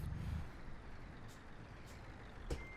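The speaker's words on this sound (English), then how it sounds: "full parking brakes on." Parking brakes are set on a truck in Euro Truck Simulator 2, giving short, faint air-brake hisses at intervals over a low, steady engine rumble.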